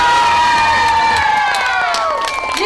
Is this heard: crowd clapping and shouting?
yes